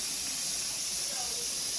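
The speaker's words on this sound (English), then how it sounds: "you see this steam coming out here" Steam hisses steadily from the leaking safety valve of a pressure canner, a close, continuous broadband rush with no pauses for the whole moment.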